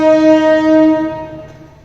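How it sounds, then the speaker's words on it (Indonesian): A passing train sounds a loud, sustained horn, a steady tonal blare that holds for over a second and then fades away, with no talk. "Sebentar, ada suara kereta."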